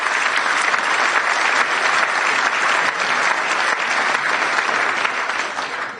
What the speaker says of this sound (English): Sven, that is your applause.